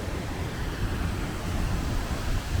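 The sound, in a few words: waterfall seen from behind, in Iceland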